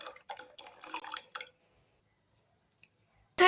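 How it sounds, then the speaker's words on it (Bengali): Sweet corn kernels go into water in a kitchen pot for boiling, a short run of soft splashing, dripping sounds, then near silence before a brief final noise. "প্রথমে আমি জলের মধ্যে কর্ন দিয়ে দেব,"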